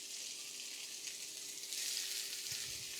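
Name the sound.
fennel searing in a hot pan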